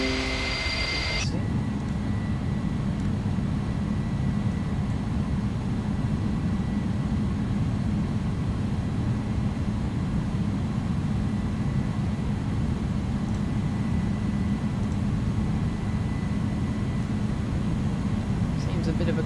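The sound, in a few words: Airbus Beluga airliner climbing out, flight simulator game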